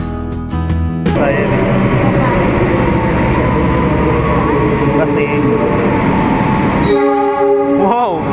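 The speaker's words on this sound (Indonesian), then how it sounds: "Wow, keretanya udah masuk, teman-teman." A KA Pangrango economy train arrives at Bogor station with a loud, sustained rumble. A horn-like tone sounds near the start and again near the end, and a voice is heard briefly at the beginning.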